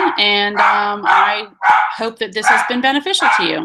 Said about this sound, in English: I apologize for my dogs. They needed to tell me that someone was at the door.